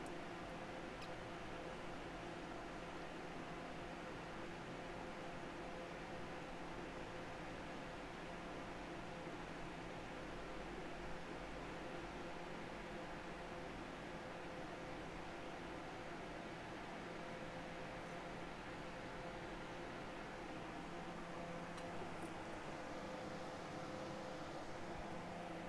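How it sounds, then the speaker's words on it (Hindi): A room air cooler hums steadily and faintly for the whole stretch, a constant even whoosh with no change in level and no talking. "अगर आपको कूलर की आवाज़ आ रही है तो मैंने बहुत कोशिश की उसकी आवाज़ को सप्रेस करने की"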